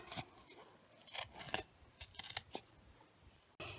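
Scissors snip through paper while a paper snowman is cut out, a close series of quick crisp cuts and rustles in an irregular rhythm, with no talking.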